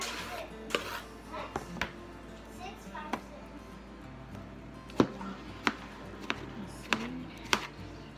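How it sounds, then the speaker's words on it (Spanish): A knife chops through a whole melon on a cutting board in a kitchen, a series of sharp irregular taps spaced about half a second to a second apart, heard close and clear under a speaking voice. "Así que vamos a cortar todo el melón."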